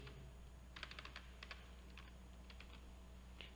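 A computer keyboard is typed on during a command-line (CMD) lesson for technical support: a quiet run of light, clustered key clicks over faint room hum, with no one speaking.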